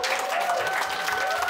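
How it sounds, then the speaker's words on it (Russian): Studio audience at a Russian-language comedy talk show about embarrassing stories breaking into applause: dense, even clapping from a crowd, sustained and fairly loud throughout. "Не спешите аплодировать."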